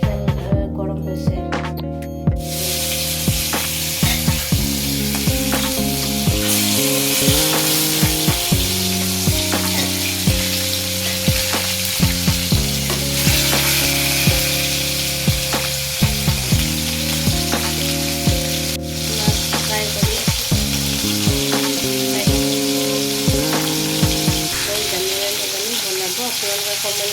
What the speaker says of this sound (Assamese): মাছ ফ্ৰাই হৈ গ'ল